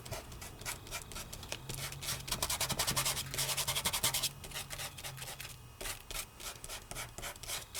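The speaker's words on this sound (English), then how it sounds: "I've polished this pretty good, and I polish like this." Silk glitter being polished by hand onto a stamped, masked card, a close, steady rubbing and brushing friction in uneven strokes that swell louder midway, with no talking.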